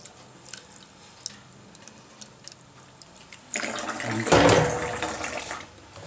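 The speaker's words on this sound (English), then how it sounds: "I add some cold water," Cold water poured from a tap into freshly cooked, too-thick homemade paste, a quiet room giving way to a steady splashing run of water that swells and then eases over the last few seconds.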